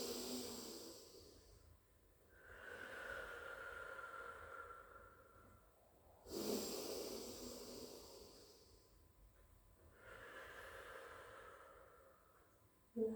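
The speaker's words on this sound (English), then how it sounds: "3 deep breaths in and out" Slow deep breaths drawn in and pushed out during a lateral Pilates stretch, three soft breathy cycles, close and quiet, with no talk over them.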